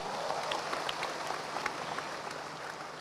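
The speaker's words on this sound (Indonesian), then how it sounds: "Semua angkat tangan, aplaus buat Anda Bapak Ibu." An audience at the closing of the Tiens Convention 2019 applauds in a dense, even wash of clapping that holds steady for a few seconds with no voices over it.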